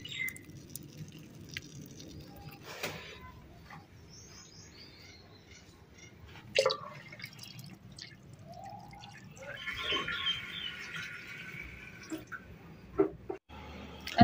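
Water drips from freshly washed items outdoors, with a few soft, sparse drops standing out faintly against quiet background noise and occasional bird chirps.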